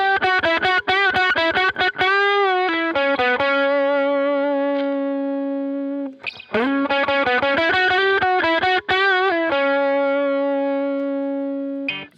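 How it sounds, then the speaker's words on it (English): Electric guitar played through a high drive treble booster distortion pedal in Logic amp modeling: sustained, buzzy distorted chords ring out, with several picked stabs and held notes, loud and alone. "we've got a high drive here. This is basically like your treble booster."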